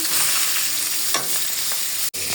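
Fish pieces frying in oil in a pan, cooked for a dish with green banana and dried fish, making a steady, close hiss and sizzle broken by brief stirring scrapes, with no talking.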